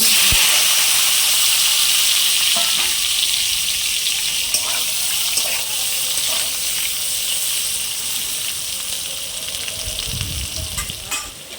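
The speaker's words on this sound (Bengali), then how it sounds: "এবার আলুটা ভেজে নেব।" Potatoes frying in hot oil make a loud, dense sizzle with steady crackle, and a few scraping stirs break in along the way. The frying eases slightly toward the end, with a low thump near the close.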